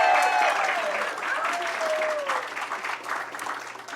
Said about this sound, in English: would you applaud for Rich, please?